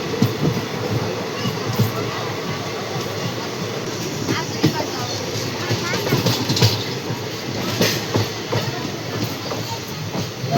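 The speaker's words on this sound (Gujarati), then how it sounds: "આપણી ટ્રેન સ્ટોપ થઈ છે" A passenger train slows to a stop at a railway station, its wheels clattering and faintly squealing under steady rolling noise, with voices talking over it.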